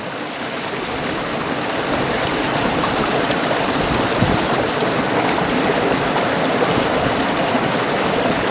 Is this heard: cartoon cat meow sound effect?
no